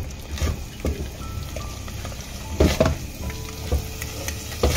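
Curd spooned into a masala frying in oil for a fish curry, with steady sizzling and crackling and a few scraping knocks of a spoon stirring the pan.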